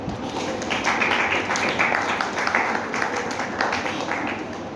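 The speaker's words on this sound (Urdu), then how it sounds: "اپنے لیے بھی تالیاں بجا دیجیے" A crowd claps steadily for several seconds at a religious sermon, a dense patter of many hands filling the room.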